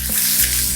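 Ginger and curry leaves sauté in a pan with a steady, close sizzle and faint stirring, brief and without voices.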